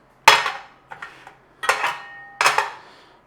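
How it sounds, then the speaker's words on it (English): Metal cookware clanks and knocks in a kitchen, several sharp close-up strikes spaced out over a few seconds, one with a brief ringing tone, as a pan is handled ahead of cooking paneer kadhi. "We're going to get a cooker, grab a pan"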